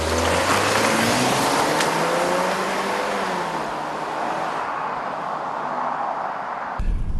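A Jeep Cherokee SUV on a test drive, its engine droning steadily with rising and falling revs and constant road and wind noise from inside the cabin, no talking.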